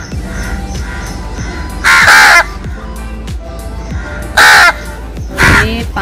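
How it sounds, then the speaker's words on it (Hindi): Crows caw loudly and close by in several harsh bursts, two to three calls in each, with faint background noise between them. "कौवा महाराज।"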